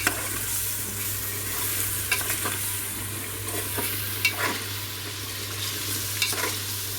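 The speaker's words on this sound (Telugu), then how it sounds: "ఇప్పుడు ఇదంతా చక్కగా కలుపుకోవాలి." Garam masala and coriander powder get stirred into sizzling oil in a frying pan with kasuri methi for egg biryani, a steady frying hiss broken by several sharp scrapes and clinks of the spoon against the pan.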